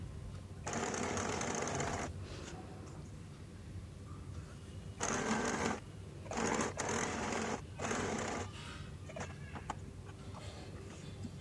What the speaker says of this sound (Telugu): ఇప్పుడు లైనింగ్ దీన్ని మెయిన్ ఫ్యాబ్రిక్ది రెండు కలిపేసేసి పైన కుట్టు వేసేస్తున్నాను